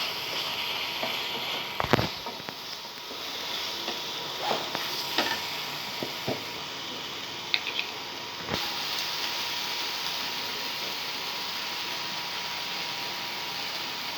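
Chillies dry-roast in a pan with a soft, steady sizzle across the whole stretch, broken by a few sharp clicks and scrapes as they are stirred, fairly quiet and close.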